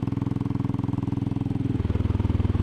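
A Royal Enfield Classic 500 single-cylinder motorcycle thumps steadily and loudly up close while riding, its rapid even pulses dropping to a lower, fuller beat partway through.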